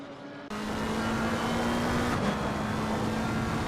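Ferrari race car sliding at the Nürburgring in a racing game, a steady loud engine drone with a sustained tone after a sudden start, nobody talking.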